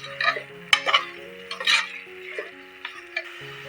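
Mutton biryani masala is stirred in a pressure cooker, giving uneven scraping and clinking strokes close by over a faint tonal hum, with no talking.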